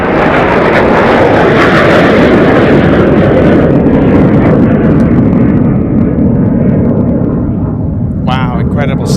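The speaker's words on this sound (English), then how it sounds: "The P-80. The T-33 Lockheed Shooting Star." A Lockheed T-33 Shooting Star jet roars past at an air show, a loud, sustained, broadband jet rumble that slowly fades, with a brief burst of voices at the very end.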